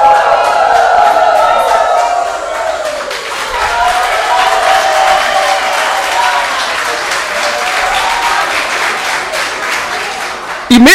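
A loud, sustained crowd reaction fills a city council chamber during a budget vote session, a continuous roar of voices and noise that builds and holds for several seconds.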